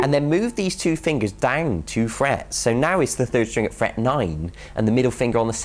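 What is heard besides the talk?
None of the usual background noises is heard.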